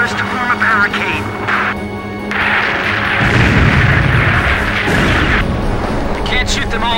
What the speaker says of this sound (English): Number 8 just took a direct hit and exploded!